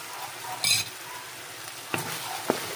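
A spoon stirs broccoli, chicken and tofu in a hot pan, giving a steady sizzle with a few distinct scraping strokes and clinks. No one speaks.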